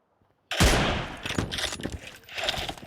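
Video game gunfire opens suddenly with a loud blast, followed by a rapid string of close shots and scraping clatter.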